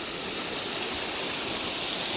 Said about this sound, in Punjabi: ਦੇਖੋ ਜੀ ਪਾਣੀ ਨਦੀ ਦਾ